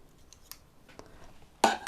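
A few quiet snips of scissors, then a louder, sharper cutting crunch near the end as the blades work through packaging tape on an iPad Pro box, close by.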